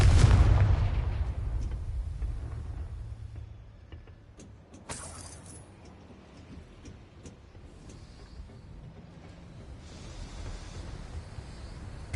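A Confringo blasting spell explodes in Hogwarts Legacy on hard mode on PS4, opening with a loud burst that fades into a low rumble. A second sharp blast cracks out midway, followed by lingering debris and ambience.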